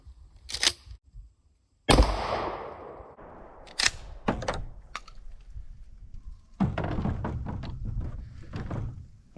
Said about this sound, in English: Remington 870. Target on the left.